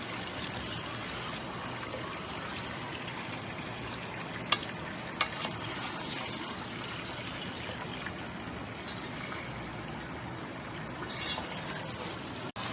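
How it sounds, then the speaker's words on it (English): Chicken qorma frying in a pot over a medium flame, a constant dense sizzle with a few sharp clicks of stirring, close and steady throughout. "We have to cook it on medium flame"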